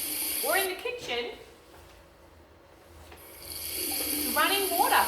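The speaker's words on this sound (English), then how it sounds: "Running water from a tap." Water running from a tap in a bathroom or kitchen, a steady broad hiss that fades to near quiet midway and then returns, with a voice talking over it.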